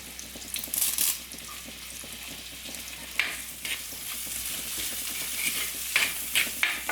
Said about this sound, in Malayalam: ഈ സവോള ഒന്ന് ചെറുതായിട്ടൊന്ന് വഴന്നു നോക്കാം